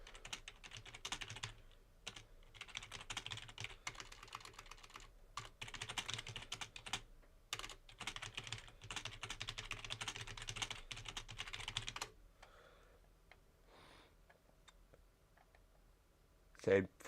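Someone types fast on a computer keyboard during an F1 race livestream, with dense rapid clicking for about twelve seconds before it falls quiet, ending with a brief louder sound.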